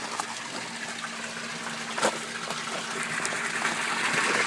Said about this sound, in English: you can see that we got full water flow coming out